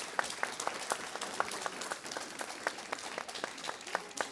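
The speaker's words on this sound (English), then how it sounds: "Let's have another round of applause." A church congregation applauds during a Unitarian Universalist Sunday service, steady moderate clapping from many hands filling the room, with sharper individual claps standing out.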